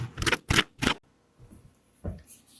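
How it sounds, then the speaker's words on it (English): A knife cuts a lemon on a board in three quick, crisp strokes close by, followed by quieter, scattered handling sounds and one more cut. "I'm going to cut my lemon"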